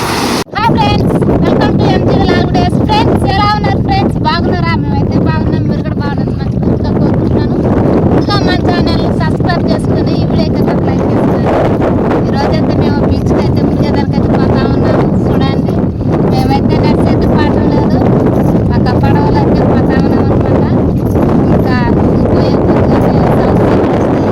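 A boat ride on the open sea, dominated by loud, constant wind buffeting the microphone with rumbling water and engine noise underneath, and voices talking throughout.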